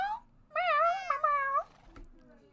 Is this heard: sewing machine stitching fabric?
no